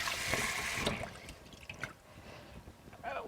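Running water splashes over freshly peeled hard-boiled eggs for deviled eggs. A brief close gush is followed by scattered drips and trickles, with faint handling noises.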